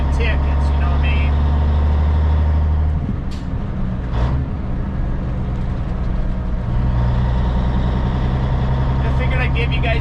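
The engine of a Kenworth K100E Aerodyne cabover truck runs loud and steady from inside the cab while it drives bobtail, with a deep rumble that dips briefly before settling back; someone talks over it.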